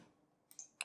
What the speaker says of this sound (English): we can check it by clicking on this